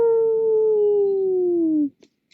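A voice imitates a coyote howl with one long, sustained, slowly falling note that cuts off abruptly, followed by a few soft noises.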